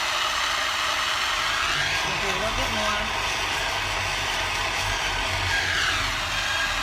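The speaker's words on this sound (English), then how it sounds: "Apparently they're moving some road construction equipment" Steady engine rumble and machinery noise from road construction equipment being moved outside, continuous throughout, with a person talking briefly over it.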